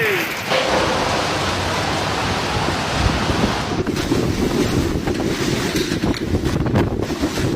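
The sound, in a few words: storm wind and waves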